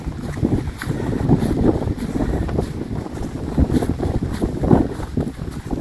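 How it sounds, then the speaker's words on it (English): Strong headwind buffets the microphone on the open Norwegian tundra of Hardangervidda, a steady, loud roaring rush with gusty swells and no voices. "Headwind all day, every day."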